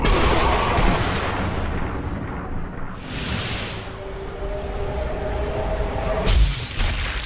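Gunfire in the zombie shooter game Sniper Elite Nazi Zombie Army 2, with loud booming rifle shots at the start and again near the end, over a dense, continuous bed of game noise.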